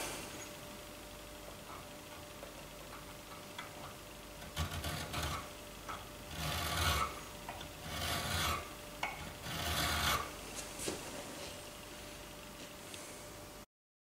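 A file deburrs the rails of a 1911 pistol frame in a short series of close, gritty rasping strokes in the middle of the clip, preceded and followed by quiet background hiss.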